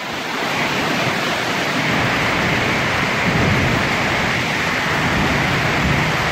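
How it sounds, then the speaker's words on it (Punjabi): Heavy rain pours down steadily in a rural setting, a dense continuous hiss close by that holds even in loudness throughout, with no talking. "ਓਹ ਬਾਰਿਸ਼ ਤੇਜ਼ ਹੋਈ ਹੈ।"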